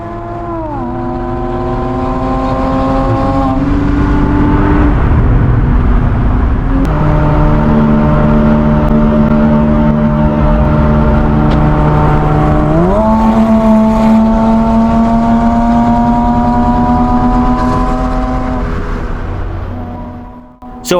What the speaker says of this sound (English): this one still maintains that growl and grumble of my somewhat loud